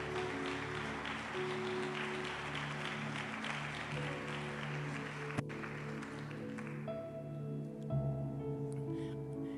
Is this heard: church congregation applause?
yes